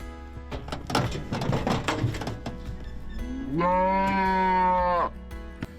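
A calf bellows in one long, loud moo lasting over a second while cattle are handled for vaccination and knife castration in a fall working pen, after a stretch of clattering, thumping chute noise.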